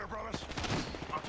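Gunfire in Apex Legends during a tournament match, a dense burst of overlapping shots lasting the whole moment, loud and close, mixed with game sounds and a voice talking over it.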